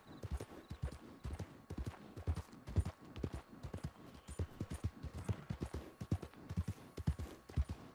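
A horse's hooves clip-clop in Red Dead Redemption 2 Online, a steady rhythmic run of hoofbeats that continues for the whole stretch at a moderate level.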